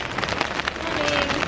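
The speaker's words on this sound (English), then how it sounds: "It is a super rainy Sunday here in Shibuya, Tokyo, Japan." Heavy rain falls steadily on a Sunday in Shibuya, Tokyo, making a dense, even hiss and patter that fills the whole moment at close range.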